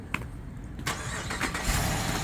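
A Jeep Grand Cherokee L Summit V8 starts up close by: a brief starter crank followed by the engine catching and settling into a loud, rumbling idle that holds steady.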